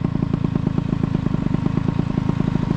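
A Tomos moped's small two-stroke engine puttering along in rain, a fast, even, close chugging beat that runs steadily throughout.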